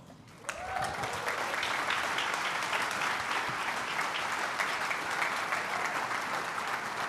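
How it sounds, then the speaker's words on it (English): Sustained applause from a large audience at an entrepreneurship business talk, dense and steady throughout after a brief quieter start. "Don't stop clapping."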